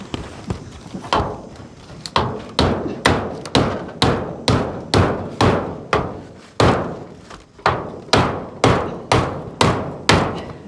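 Steady hammering, about two solid blows per second, repeats for several seconds with only brief pauses, each strike sharp and close.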